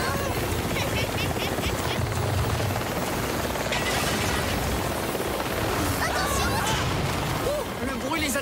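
A cartoon helicopter's rotor chops loudly and continuously, mixed with crashes, whooshes and other chaotic action effects throughout.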